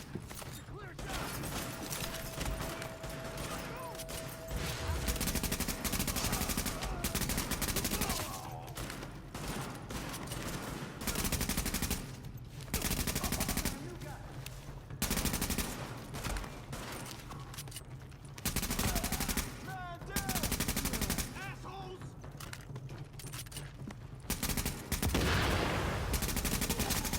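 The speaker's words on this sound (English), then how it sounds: "The escort party's taking heavy fire from the roof." A rooftop gunner in the video game The Division lays down heavy gunfire, sustained bursts of shots repeating in long waves at moderate volume, with short quieter gaps between volleys.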